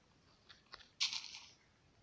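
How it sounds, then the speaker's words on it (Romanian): Wood being chopped in Minecraft, a couple of faint soft taps followed by one louder, crunchy hit that trails off briefly, all close and isolated against quiet. "Hai să tăiem niște lemn"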